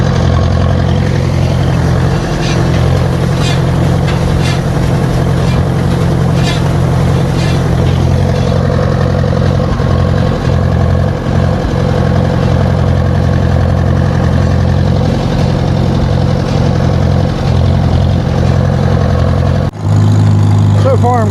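A Farmall H tractor engine hums along steadily at idle-to-working speed, a low continuous drone that stays loud and close for the whole stretch, with a brief change near the end.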